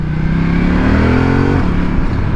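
A 2018 Ducati Multistrada 1260 S rolls on the throttle out of a corner exit, its engine loud and close with a steady rising drone that steps down briefly as it shifts.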